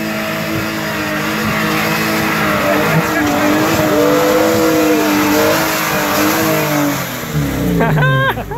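A car engine drones and climbs in pitch through several gear changes, with tires squealing near the end; voices murmur underneath.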